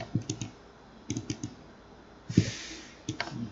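A computer mouse clicks in short quick bursts, sharp and close, with quiet gaps between the clusters.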